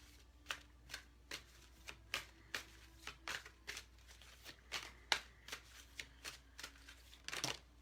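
A deck of guidance cards is shuffled by hand, a close, quiet string of soft riffling bursts in a rough rhythm, ending in a slightly fuller flurry.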